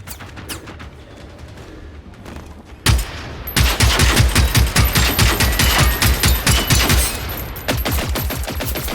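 Rapid rifle fire in the video game Generation Zero: a sharp opening shot, then a loud sustained burst of evenly spaced, punchy gunshots that trails off into a few scattered rounds.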